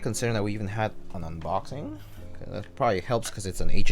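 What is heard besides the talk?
No everyday noises stand out.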